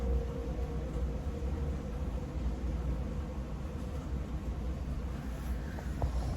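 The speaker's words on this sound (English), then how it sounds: "this train is getting louder" A train passes nearby, its low rumble and broadband roar steady and loud throughout, with a faint rising tone near the end.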